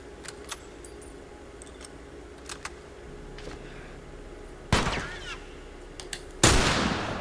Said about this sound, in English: I love how it shows the bullets whiz by.